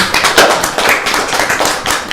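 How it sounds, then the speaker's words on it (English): A small audience gives a round of applause at a devotional gathering, loud close hand claps in a loose, uneven patter. "a big round of applause for him"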